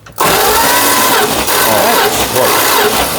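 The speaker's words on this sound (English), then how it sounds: "I want you to start cranking." A 1972 Dodge Crew Cab engine cranks on the starter during a compression test, a loud, close, steady churning that kicks in abruptly and runs without a break.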